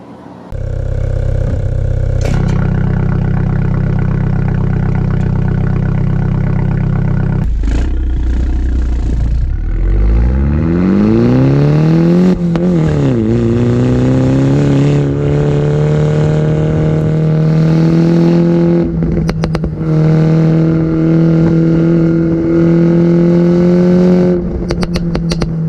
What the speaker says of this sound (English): this tuning kit basically includes a JCW Pro exhaust, which you will hear